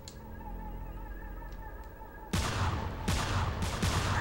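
Gunfire from shooting enemies in a porno theater shootout in Manhunt 2 breaks out suddenly after a quiet, humming lull, with loud overlapping bursts of shots continuing to the end.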